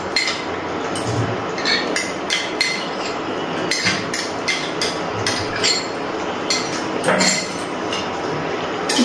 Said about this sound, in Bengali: ভালো করে সব কিছু মিশিয়ে নিচ্ছি।